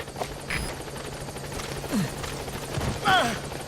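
Support helicopter arriving in Metal Gear Solid V, a low steady rotor drone running under game ambience with a few brief chirps and effects, moderately loud throughout.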